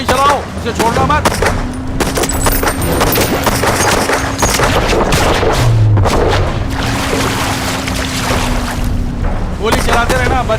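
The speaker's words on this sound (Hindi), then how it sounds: "गोली चलाते रहना, बच के ना जाने पाए।" Continuous automatic gunfire in an action movie scene, dense rattling bursts and booms over rumbling engine noise, sustained loudly throughout.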